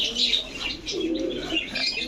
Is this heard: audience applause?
no